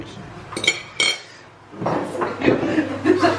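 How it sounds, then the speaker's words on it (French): Six cracked eggs beaten in a bowl with a utensil: close, clattering clinks and scraping against the bowl, with a brief pause and then continuous rapid whisking. "j'ai cassé 6 œufs là et je les bats"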